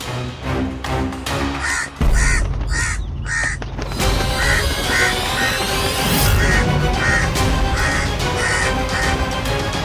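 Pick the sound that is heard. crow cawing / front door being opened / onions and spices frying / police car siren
crow cawing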